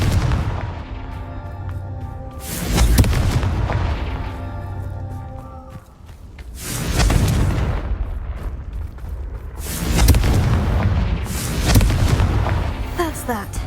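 In the video game Hogwarts Legacy, a fire spell sets off a series of loud booming blasts, four in all, each rolling and fading into rumbling debris.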